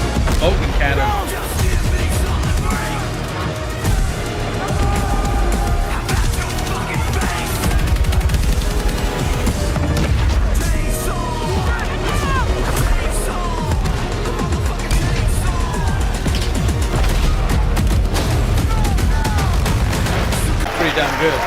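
Constant heavy cannon blasts and gunfire rattle through a dense, loud Battlefield 6 multiplayer battle mix with music underneath, no pause throughout.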